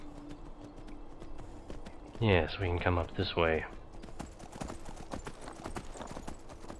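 A horse named Brownie clip-clopping in Skyrim, with steady, close hoofbeats running throughout while someone speaks briefly over them.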